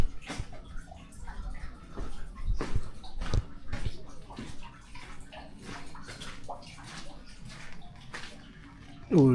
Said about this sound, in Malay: Tu ada bunyi air-air.